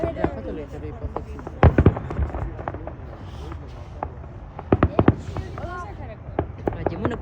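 Fireworks at a Stampede celebration crack and pop in scattered bursts, with a cluster of sharp reports early on and another tight volley later, over a steady crowd murmur and nearby talking.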